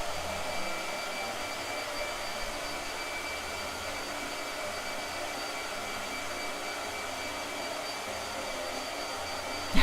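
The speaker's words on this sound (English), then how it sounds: "Blow dryer." A blow dryer drying fresh paint runs in a continuous, even whooshing roar close by for about ten seconds, with no voices.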